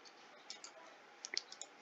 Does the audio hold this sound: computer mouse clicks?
yes